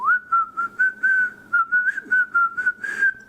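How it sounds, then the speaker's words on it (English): A person whistles a lively tune in short, bouncy phrases, each note clear and close, with brief gaps between them and no talking. "whistling."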